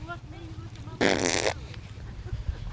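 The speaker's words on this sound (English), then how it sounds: "fart again, damn it." A loud, buzzy fart lasts about half a second, set against background voices and playful noise during a family farm maze game.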